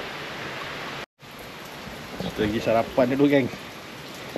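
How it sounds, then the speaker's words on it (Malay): Steady rain hisses in the background throughout, under someone speaking briefly partway through. "Hujan."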